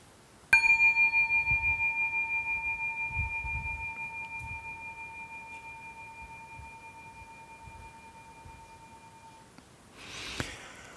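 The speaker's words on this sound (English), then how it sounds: "First listen to this sound of the gong, sound of this singing ball." A singing bowl gong is struck once and rings with a clear sustained tone that slowly fades over several seconds in a quiet room, followed by a brief rustle near the end.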